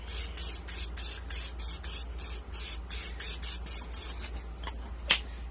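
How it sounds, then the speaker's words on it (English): Cooking spray from an aerosol can misted into a crock pot before layering lasagna, a run of about a dozen short, rhythmic hissing bursts, close and fairly loud, over a steady low hum. "we're going to spray our crock pot with just a little bit of cooking spray."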